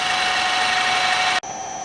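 A metal lathe, an Acra machine, runs at its lowest speed of 45 RPM with a steady, even mechanical whir and hum. Near the end the sound cuts out briefly, then the drone resumes at a slightly different pitch.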